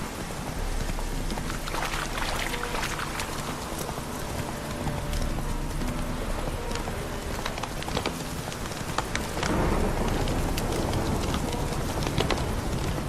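Horse hooves clip-clop steadily through the clip in The Witcher 3: Hearts of Stone, the rider's mount walking on ground amid rain patter and occasional birdsong, with no talk over it.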